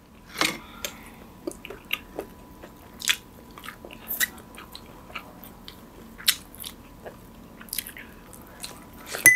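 Someone eats herbal chicken soup, with close, wet bites and chewing clicks spaced irregularly across the stretch, quiet in between and free of talk.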